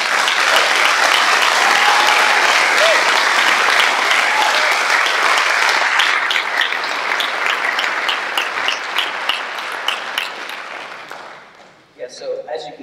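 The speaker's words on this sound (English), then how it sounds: "Can we give both of them a round of applause?" Applause fills a church during a sermon, loud and continuous at first, then thinning into scattered claps that fade out near the end before a voice briefly returns.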